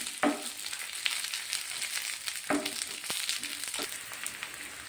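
Brinjal sautéing in a pan for chammanthi, a soft continuous sizzle with a few sharper stirring scrapes and taps spaced through it, close and moderately quiet.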